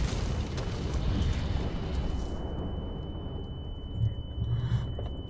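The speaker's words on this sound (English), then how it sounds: "The explosion must have attracted some attention." An explosion in the horror game The Land of Pain gives a loud, sustained rumbling roar with low booming swells, and a steady high electronic whine runs over it.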